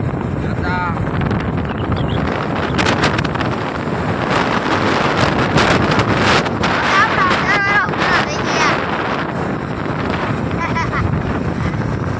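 Steady wind buffeting the microphone, a loud continuous rumble and roar, with voices talking intermittently underneath.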